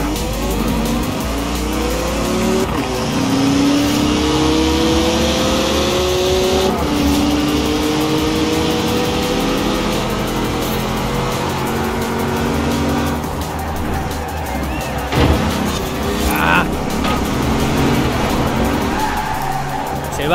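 A car in the racing game Forza Horizon 4 drones steadily at speed, its engine note rising and falling while tires skid and squeal throughout.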